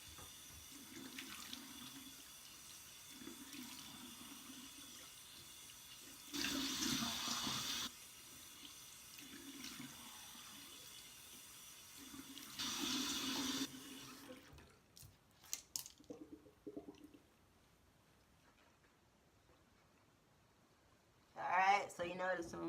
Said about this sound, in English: So I'm going to take lukewarm water, and I'm going to just rinse my face a couple of times